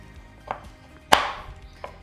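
A knife chops through a chocolate bar on a board: three sharp cuts, the middle one a loud crisp crack with a short ring-out, the other two softer, close and alone with no talking.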